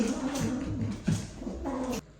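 Several house cats in a multi-cat home in Japan squabble at close range, with growling caterwauls and hisses rising and falling for a couple of seconds before stopping abruptly.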